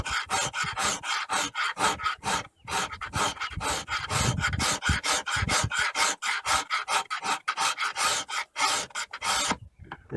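A metal file rasps back and forth across the edge of a cabinet scraper clamped low in a vise, a steady run of roughly twenty quick, dry strokes, close and loud with brief pauses between passes.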